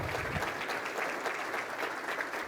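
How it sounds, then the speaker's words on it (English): Audience applause during a city's State of the City address, a dense, sustained round of clapping from a crowd, even and continuous throughout at moderate loudness. "They deserve your applause."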